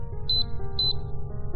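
Countdown timer for a station detonation beeping in two quick high-pitched double chirps, clear and close over a low droning background hum.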